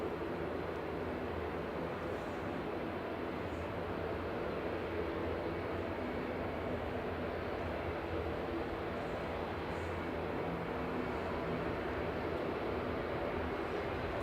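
Loganair ATR 72 turboprop lining up on the runway at Manchester Airport for a flight to the Isle of Man; a faint, steady, distant engine rumble drones on evenly throughout with no voices.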